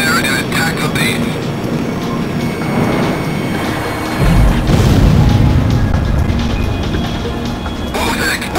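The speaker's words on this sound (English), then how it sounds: "What was that explosion just now?" A loud boom erupts over a steady roar of jet aircraft engines during a mission attacking an enemy base in the Ace Combat X flight game, swelling briefly before the engine drone continues.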